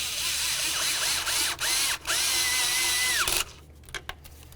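Power tool with a 10mm socket driving an ignition coil bolt on a Dodge Journey 3.5L engine, a loud whirring drill with rising and falling pitch sweeps and brief pauses, then cutting off into quiet clicks and handling noises.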